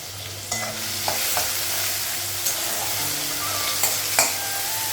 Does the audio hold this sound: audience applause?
no